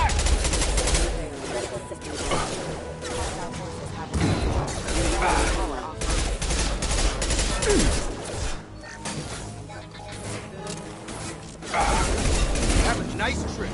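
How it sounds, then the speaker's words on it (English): Heavy gunfire and clanking combat from the video game Mass Effect, a dense continuous barrage of shots and mechanical impacts at steady loudness, with a voice speaking over parts of it. "Taking heavy fire!"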